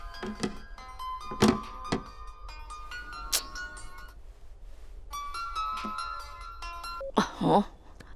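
A mobile phone's ringtone melody repeats in a home scene from a Hindi-dubbed South Indian action film. It plays loud and close, broken by a few thuds and a short rustle near the end.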